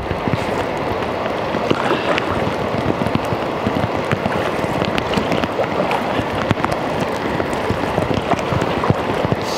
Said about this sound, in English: Snow and rain.